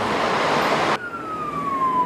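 A large ambulance is stuck in a narrow Manila street. Loud broadband traffic noise cuts off abruptly, leaving a faint, steady siren tone that slides slowly downward.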